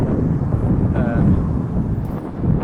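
Gusty wind buffets the microphone while walking downtown in Oklahoma City, a steady low rumble throughout with a brief surge near the end.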